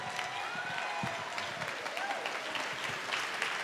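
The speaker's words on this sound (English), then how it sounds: "Another round of applause for Ms." Audience applause for a singer at Mother AME Zion Church, a dense, steady wash of clapping from a crowd that holds loud and even across the whole stretch, with a few voices mixed into the noise.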